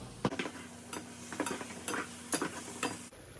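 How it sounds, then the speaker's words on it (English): Quiet sizzling under several sharp scrapes and clacks of a utensil against a pan, spaced unevenly, with no talking. "I'm gonna add salt and pepper to my beef as it browns. And going to give it a stir."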